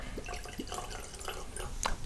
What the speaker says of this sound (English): I normally do quite a short pour